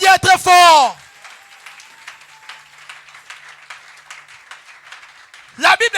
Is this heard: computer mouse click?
no